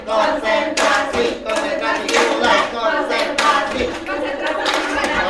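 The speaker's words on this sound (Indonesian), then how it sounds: "tepuk tangan untuk kita semua" Participants in a concentration clapping game at a school positive-culture session clap in rhythmic group bursts, loud and close, with voices chanting along between the claps.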